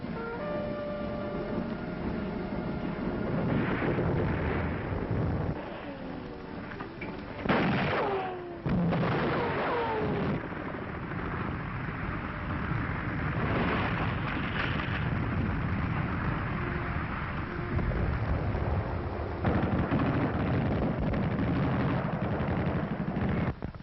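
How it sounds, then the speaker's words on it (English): Gunfire from German snipers on the roof of Notre Dame during the WWII battle for Paris, scattered sharp shots and bursts over a dense, noisy archival soundtrack, loud and continuous throughout. "German snipers open up on the roof of Notre Dame."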